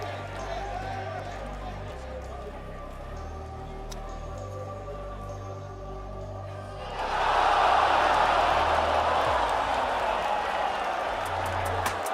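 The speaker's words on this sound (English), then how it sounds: "Let's see how much of a prophecy this crowd has with their cheers." Crowd cheering erupts at the 2022 League of Legends World Championship draw ceremony, a sudden loud roar of an arena audience that swells midway and holds steady over music.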